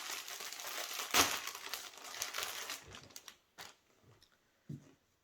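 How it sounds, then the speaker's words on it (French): Crinkly plastic packaging rustling and crumpling as a package holding a metre of lycra swimsuit fabric is unwrapped, busy and close at first, then thinning to a few sparse crackles. "Je vous le déballe tout de suite."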